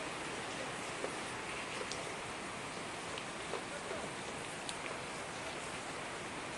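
Steady rain falls outdoors in a village during a fiesta, a dense, even hiss throughout with a few faint drips and clicks on top and no voices.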